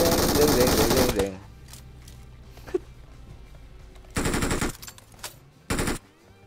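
Automatic gunfire in PUBG Mobile, a loud sustained burst at the start followed by quieter gaps and two more short rapid bursts, close and sharp.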